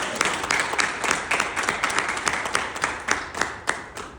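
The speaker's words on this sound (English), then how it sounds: "So can we give her a hand clap in her absence?" An audience at a credit union awards ceremony claps its hands in a lively, uneven patter, with individual sharp claps standing out from the crowd throughout.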